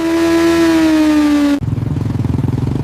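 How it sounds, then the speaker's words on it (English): A finished motorcycle runs on a factory dynamometer, first a steady high revving whine with a slowly falling pitch, then an abrupt drop to a lower, pulsing, throbbing engine beat, close and loud. "The finished motorcycle is placed on a dynamometer, where engineers evaluate acceleration, braking, and overall engine performance."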